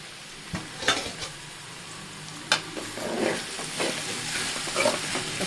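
Ivy gourd stir-fried in a pan over medium flame, a constant sizzle broken by repeated scraping and stirring strokes and light knocks of the spoon, close and without speech.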